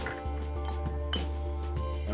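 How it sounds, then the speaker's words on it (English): Bourbon poured from a bottle into a glass infinity bottle, with a soft, steady trickle and a few light glassy clinks close by under a low background hum. "Gonna pour the first one into the infinity bottle."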